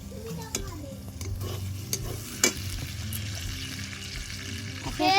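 Spice masala frying in oil in a pan while being stirred, with a steady close sizzle and occasional scraping clinks of a utensil against the pan.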